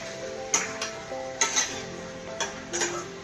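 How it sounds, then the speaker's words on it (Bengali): Mixed vegetables seasoned with Kashmiri chili powder are stirred in a pan, giving four or five sharp scraping clinks spaced about a second apart over a faint sizzle, close by and with no talk. "কাশ্মীরি লঙ্কার গুঁড়ো দিয়ে আবারও ভালো করে নাড়াচাড়া করতে হবে"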